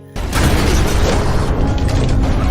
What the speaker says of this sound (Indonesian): sebuah ledakan membuat seluruh orang panik